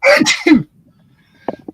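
A single loud, close sneeze, a sharp two-part burst, followed by a short pause and a brief murmur.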